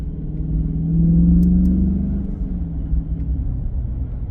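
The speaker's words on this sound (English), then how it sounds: "this is amazing what the stock exhaust sound like on these cars" A deep, throaty V8 rumble through the stock exhaust of a 2023 Chrysler 300C with a 6.4-liter HEMI, swelling louder as it accelerates then settling into a steady low drone.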